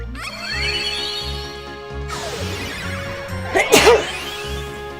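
A single sharp sneeze bursts out amid chiptune-style music and sound effects while playing Chocobo's Dungeon 2.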